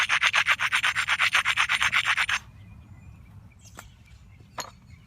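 A big rock's edge is ground before direct percussion knapping, giving a fast run of about sixteen rhythmic rasping strokes, close and loud, followed by quiet and a couple of sharp taps.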